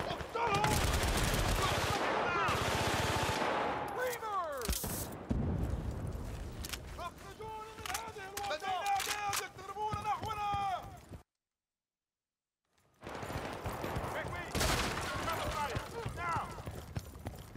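Rapid bursts of gunfire from a video game ring out loud and dense, trailing into scattered shots with hoofbeat-like clatter, then a brief full silence before more heavy firing resumes.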